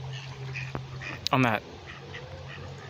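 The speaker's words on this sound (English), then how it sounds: "We've got your regular mallards here." A single burst of mallard duck quacking, a quick run of harsh calls, rises briefly over a steady low outdoor hum at a park pond in Ipswich while a voice speaks nearby.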